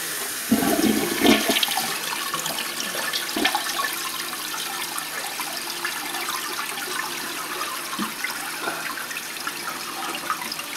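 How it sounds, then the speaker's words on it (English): A toilet flushing indoors: a loud, close rush of water that starts abruptly and carries on as a steady swirling hiss throughout. "Want me to flush it?"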